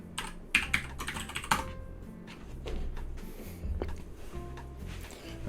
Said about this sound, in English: Oh my God, I can't type today.